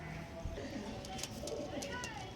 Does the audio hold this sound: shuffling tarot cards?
no